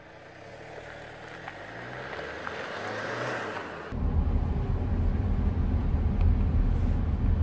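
An Infiniti QX30 2.2D 170 hp diesel on the move, a steady engine drone and road rumble that thickens into a louder, bass-heavy roar partway through, with no talking.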